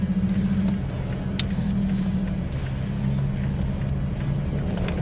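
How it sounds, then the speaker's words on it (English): An off-road vehicle fitted with a Throttle Grenade throttle controller accelerates gently, a steady low engine drone with the pitch shifting slightly as gas is applied, close and continuous. "Okay, applying gas now,"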